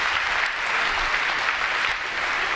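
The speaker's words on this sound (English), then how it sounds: "You can clap for them." Moderately quiet, steady applause from the audience at a homeschool graduation ceremony for the graduating class, continuous clapping with no voices.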